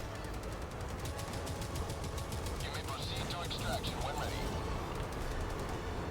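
Gunfire in a video game rattles as rapid, evenly spaced automatic bursts under constant game noise, with a person talking over part of the shooting.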